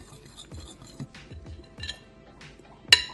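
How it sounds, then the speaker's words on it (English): Dry spices such as ginger powder and onion powder stirred together in a bowl, a run of soft rhythmic scrapes and light clinks from a utensil against the bowl, ending in one sharper knock. "Make sure you mix all your dry ingredients."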